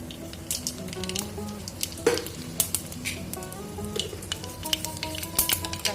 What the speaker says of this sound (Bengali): এই তেলের মধ্যেই আমি দিয়ে দেবো সামান্য ফুটন